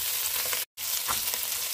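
Garlic, onion, ginger and shrimp sautéing in a pan, giving a close, steady sizzle that cuts out briefly before resuming with light crackles and stirring.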